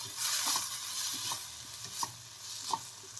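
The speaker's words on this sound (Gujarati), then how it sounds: "અડધું ટમેટું પણ એડ કરશું એમાં. અને સારી રીતે બધું જ આપણે મિક્સ કરશું." Chopped tomato being stirred into a sautéing poha snack mixture, a soft steady sizzle broken by several distinct scraping stirs of the spoon, close and fairly quiet with no talking.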